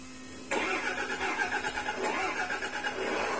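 A miniature RC truck's electric motor kicks in sharply under throttle and then holds a steady, buzzing whine with slight wavering, close and loud.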